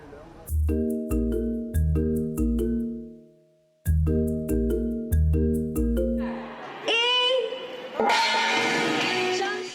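Gong strikes ring out at a ceremony marking the maiden trip of the first high-speed rail link between Hong Kong and Xi'an, a series of sustained resonant metallic tones struck one after another, followed by crowd noise and applause.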